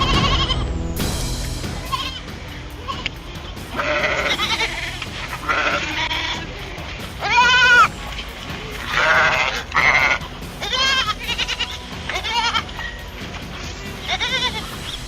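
Several sheep bleat repeatedly on the Falkland Islands, some loud and close, others farther off, with wavering cries spaced irregularly over an outdoor background.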